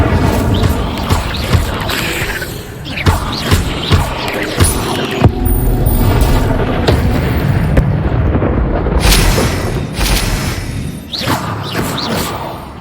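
Incendio fire spells are cast during cave exploration in Hogwarts Legacy, producing dense, roaring bursts and thumping booms that repeat steadily throughout, layered over a constant loud game rumble.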